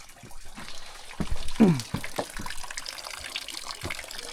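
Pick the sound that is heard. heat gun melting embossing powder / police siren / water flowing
water flowing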